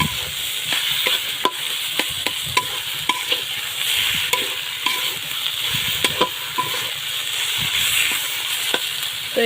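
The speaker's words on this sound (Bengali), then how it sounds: "তো একটু ভেজে নেব" Greens sizzle and crackle steadily in a hot pan, with frequent sharp clicks and scrapes of stirring throughout.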